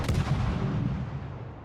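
A rapid gun salvo from the Tashkent destroyer in the World of Warships video game, a heavy, punchy blast with quick crackling reports up front that trails off into a rumbling decay.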